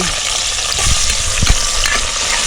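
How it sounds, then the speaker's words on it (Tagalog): Aromatics for a fish soup sizzle loudly in a hot pan, with a continuous frying hiss broken by a few stirring scrapes close by. "Igigisa natin yung sinabawan"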